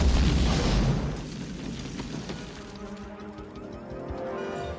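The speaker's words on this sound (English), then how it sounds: "The explosion goes off" A loud movie explosion booms up front, then a long rumbling roar fades into lingering debris and low noise.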